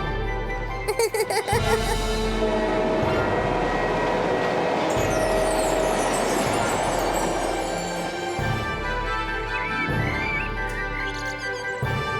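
A train rumbles past with rhythmic clacking and shifting mechanical roar, some high squeals and chirps over the steady noise.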